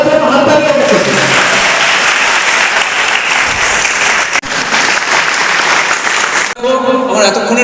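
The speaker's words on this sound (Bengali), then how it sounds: "সবাই যেন হাত তালিয়ে রাখো" An audience at a workshop session claps steadily and loudly, a dense sustained burst of applause with voices mixed in, briefly dipping before resuming.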